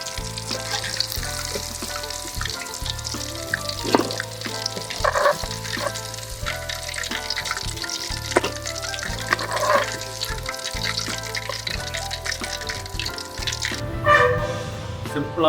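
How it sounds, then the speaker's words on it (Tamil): Fresh curry leaves dropped into hot oil with chicken 65, a steady crackling sizzle with a rhythmic low pulsing underneath, close and continuous while a voice speaks over it. "இதை அப்படியே இந்த கொத்தை அப்படியே ஆயிலில் நம்ம இந்த சிக்கனோடய போட்டோம்."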